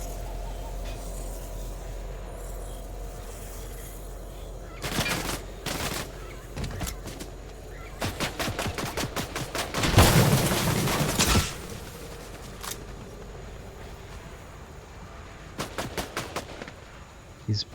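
Video game gunfire comes in several rapid bursts of sharp, cracking shots, some grouped into quick volleys, over a steady low background hum with long pauses between the bursts.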